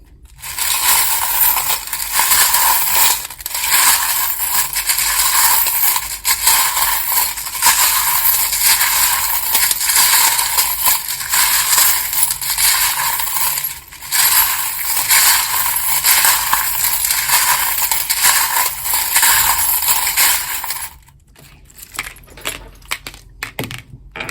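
Continuous loud crackling, rustling shuffle of tarot cards handled close up, sustained for many seconds with a brief dip midway and quieter clicks near the end.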